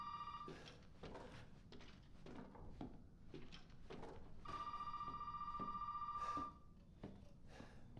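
A telephone in the video game Resident Evil 7 rings in sustained electronic bursts, one near the start and a longer ring midway, amid footsteps, thuds and creaks at low volume.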